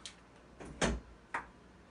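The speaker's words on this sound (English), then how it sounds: "Door feels pretty heavy, but door is very thick." A heavy, thick steel gun safe door opens with a few short knocking clunks and creaks, one louder thud in the middle, heard up close in a quiet room.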